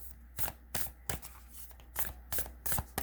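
A deck of Moonology oracle cards is shuffled by hand in quick bursts of crisp riffling, about eight close strokes with short pauses between, no voices.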